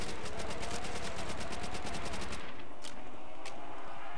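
Automatic gunfire in Call of Duty Zombies, aimed at zombies: a rapid, even burst of shots rattles loudly for a couple of seconds, then two separate single shots ring out.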